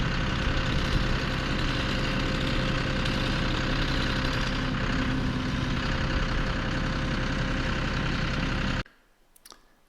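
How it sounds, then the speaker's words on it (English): John Deere 5065 tractor engine idling steadily and close with a dense low rumble, cutting off abruptly near the end, no talking. "So here, backing up the tractor, once again, this is a John Deere. It's a 5065 tractor."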